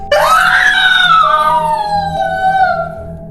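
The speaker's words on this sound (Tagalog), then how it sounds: "Iyon ang sigaw ng babae habang nagmamakaawa." A woman's loud, sustained scream of terror, pleading and desperate, rises sharply and holds for about three seconds before trailing off, heard alone in a horror story about an apartment haunting.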